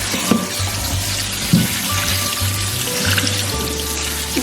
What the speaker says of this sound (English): I'm just going to run some cold water over it